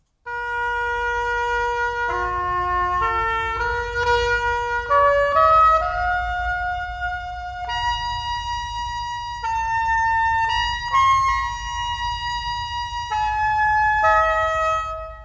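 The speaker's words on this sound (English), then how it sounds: "So the Baroque oboe sounds like this." Baroque oboe from an Orchestral Tools sample library plays a clear, reedy melodic line of sustained and stepping notes, loud and close, alone without any accompaniment or voices.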